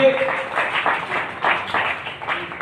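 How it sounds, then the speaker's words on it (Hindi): Applause from an audience at a Modicare business meeting, a dense steady patter of many hands clapping for about two and a half seconds with no pauses. "सर के लिए भी 2 तालियां"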